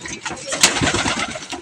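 Racing pigeons cooing and stirring close by during a bird release at a fun race, a short busy flurry with a sharp rustle midway, voices talking over it.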